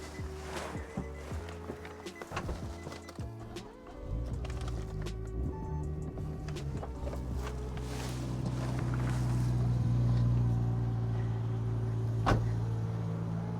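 Nissan Skyline GT-R R34 M-Spec Nür engine cranking to life and settling into a steady, rumbling idle, the low drone swelling louder toward the end with a brief sharp knock near the close.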